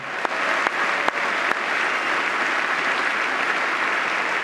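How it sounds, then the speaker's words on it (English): Extended applause for a widow at a presidential address, a dense, steady wash of clapping from a large audience in a hall, with a few sharper claps standing out early on. "Karen Owens greeted with extended applause."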